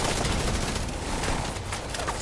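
An automated turret fires in The Division 2. A loud, continuous rattle of rapid shots fills the short moment with dense gunfire and no speech.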